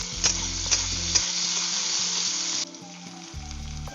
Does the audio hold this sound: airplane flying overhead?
no